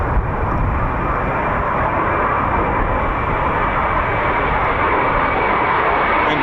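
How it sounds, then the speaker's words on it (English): F-35 fighter jet flying at RAF Lakenheath, a loud continuous broadband engine roar that holds steady throughout with no voices. "The F-35 is just an amazing aircraft."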